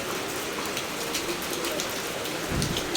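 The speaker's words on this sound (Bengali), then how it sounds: "ভীষণ ভালো লাগছে এই বৃষ্টিটা দেখে" Steady rain falls from a heavily clouded sky, a dense, even patter of drops hitting surfaces close by, with a slight low rumble near the end and no talking.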